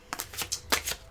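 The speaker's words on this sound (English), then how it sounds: "I just like shuffling cards, y'all." A deck of playing cards is shuffled quietly, a quick run of a few crisp riffling bursts lasting about a second.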